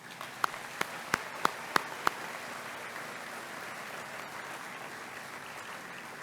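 A crowd applauds school staff at a high school graduation ceremony, a steady wash of clapping across the whole stretch, with a few louder, sharper nearby claps standing out early on.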